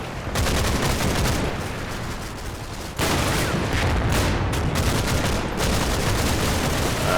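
Dense, continuous gunfire and machine-gun bursts from a Churchill tank and surrounding troops in the Normandy battle of the Combat Mission war game, loud and sustained with overlapping shots throughout.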